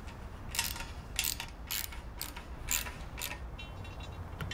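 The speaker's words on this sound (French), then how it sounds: "Visse et serre les contreplaques." Fence counter-plates being screwed and tightened on a double-wire mesh fence give a series of faint, quick metallic clicks and ratcheting ticks at irregular intervals over a low background hiss.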